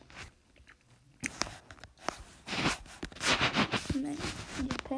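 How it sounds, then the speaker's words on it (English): Close, wet mouth sounds of someone chewing gum, irregular smacks and crunchy clicks growing louder, with brief breaths and faint voice sounds. "So I'm eating chewing gum."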